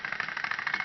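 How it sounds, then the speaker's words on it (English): Thomas and Friends toy train engines running after start-up: a small motor's fast, buzzing whir with a steady rapid pulsing rattle, faint and close. "I'll start up the engines"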